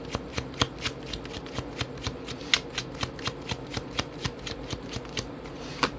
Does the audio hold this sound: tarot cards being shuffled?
yes